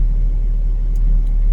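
A Class B truck rolling along the road, its engine giving a steady low rumble that holds evenly throughout with no voices.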